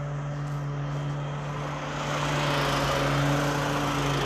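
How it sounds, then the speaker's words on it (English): A Toro HDX lawn mower engine runs close by with a steady, fairly loud droning hum that swells slightly halfway through and holds. "I'm gonna give a better overview, review over this lawnmower. It's fairly loud."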